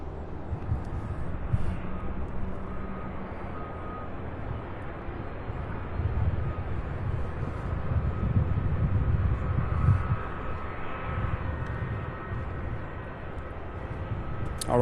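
A UPS Airbus A300 airliner takes off from Louisville International Airport, its engines a distant, broad jet roar that swells and fades over several seconds, mixed with some wind noise on the microphone.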